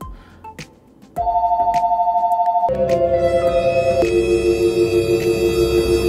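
After a brief quiet stretch, a phone rings with a loud, steady electronic warble, its pitch stepping down twice as it keeps ringing.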